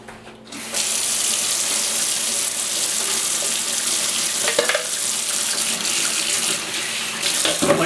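Water from a tap rinses latex paint out of a Wagner Flexio 590 HVLP paint sprayer, a steady close rushing and splashing flow that holds for several seconds with no talk.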